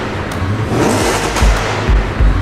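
Loud, close engine of a Mercedes C63 AMG estate fitted with a Miltech secondary cat delete, roaring with a few sharp revving blips and low rumbling pulses.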